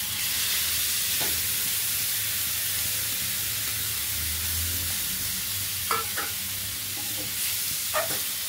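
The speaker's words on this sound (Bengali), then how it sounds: "আর দিয়ে দিলাম সিদ্ধ করা সেই ডালগুলো," Boiled lentils frying in a hot pan, a steady loud hissing sizzle running throughout with a few light scrapes and clinks from stirring, close by.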